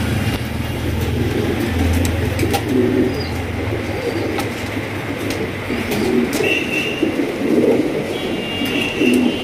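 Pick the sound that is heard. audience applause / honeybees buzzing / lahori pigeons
lahori pigeons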